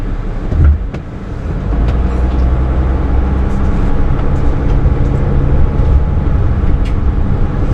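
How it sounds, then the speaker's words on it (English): A large truck passing on a road in Deming, New Mexico, a steady loud engine and tire rumble heard from inside a waiting vehicle, holding constant through the stretch without any talk. "As soon as I let this truck go by."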